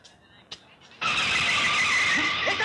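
In a Hindi movie scene, a car brakes hard and its tyres let out a long, loud, high screech that starts abruptly after a quiet moment and runs to the end, with a brief voice before it.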